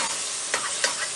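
Thin-sliced dark liver frying in hot oil in a pan, a steady close broadband sizzle with two brief louder crackles from stirring, no voices.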